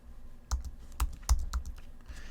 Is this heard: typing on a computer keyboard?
yes